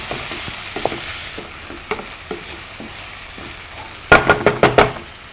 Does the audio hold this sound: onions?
yes